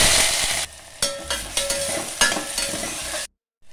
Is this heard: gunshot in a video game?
no